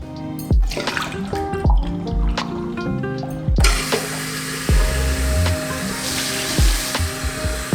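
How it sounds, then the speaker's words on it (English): A tap runs into a cup to refill painting water, a steady close rushing splash that starts suddenly a few seconds in and continues over soft background music. "My water is old and dirty though, so I'm gonna go fill that up first"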